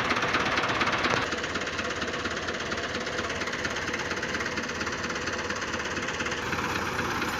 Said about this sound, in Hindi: आ गया ट्रैक्टर